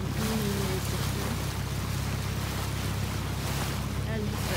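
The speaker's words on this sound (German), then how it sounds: "Bisschen Wind, minimäßig hier." Wind buffets the microphone in a steady low rumble on the Swedish coast, with a faint wash of water in the background.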